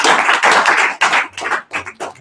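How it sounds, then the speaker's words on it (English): Loud, close applause at a training seminar, dense clapping in bursts that thin out and break up toward the end, with no voices over it. "One more big round of applause for Julia."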